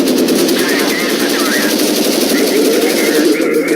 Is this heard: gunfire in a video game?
yes